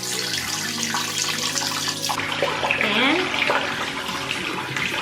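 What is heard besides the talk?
water running from a bathroom tap for rinsing the face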